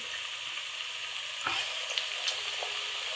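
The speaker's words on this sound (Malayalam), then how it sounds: "ഇനി നമ്മൾ കുറച്ചായിട്ട് എണ്ണയിൽ പൊരിച്ചെടുക്കണം." Pakoda frying in mustard oil gives a steady, close, dense crackling sizzle that holds level throughout, with a few brief sharper pops near the middle.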